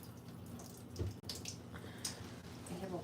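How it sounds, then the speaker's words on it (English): Water running and spattering from a leaking connection on a newly installed under-sink water filter at a kitchen sink, a steady close hiss of flow with a brief louder splash. "I have a water leak."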